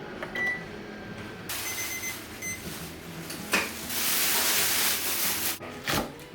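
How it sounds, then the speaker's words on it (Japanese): An oven preheating to 230 degrees before roasting pumpkin and carrot hums steadily, with close handling clatter, a door knock and a faint beep, and no talk. "230度のオーブンで20分から25分ほど。"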